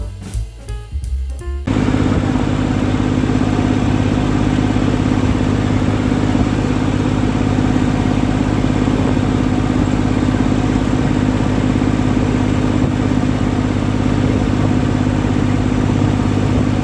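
A tractor drives on a long road haul from a village to Morbi, its engine a loud, steady, unbroken drone from close by after a brief rougher start. No one speaks.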